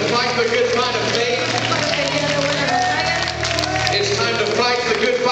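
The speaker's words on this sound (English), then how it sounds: "let's give God a great big hand clap of praise" A church congregation claps hands in praise, a dense, steady wash of many hands sustained throughout under a faint background hum and babble.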